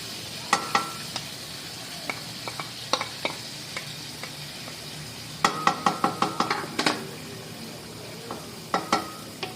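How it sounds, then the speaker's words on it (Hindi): Yogurt and spices are stirred into black pepper chicken karahi in a pan over a low sizzle, with a spoon clinking and scraping against the metal in uneven clusters of strokes. "अब इसको मिक्स कर देंगे, मसाले और ये सब दही वगैरह सारी मिक्स कर देंगे इसके साथ"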